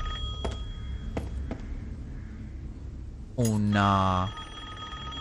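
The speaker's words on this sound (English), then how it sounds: "There's a phone that needs to be picked up." A telephone rings once in Resident Evil Village, a bright electronic burst about a second long that follows a few faint clicks and ambient hum. A person speaks briefly.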